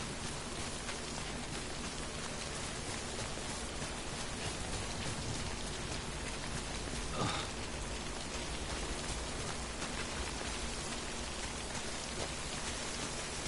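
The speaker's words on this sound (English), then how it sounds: "So this rain is called timefall." Timefall rain in Death Stranding, a dense, steady hiss of rainfall on surfaces that holds constant throughout, with one brief faint knock partway through.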